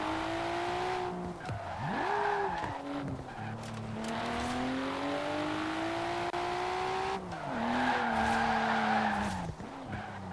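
An R33 Skyline drifting in Forza Horizon 4, its engine holding a sustained rising and falling whine under long loud tire squeals that dip and return through the corner, no voices.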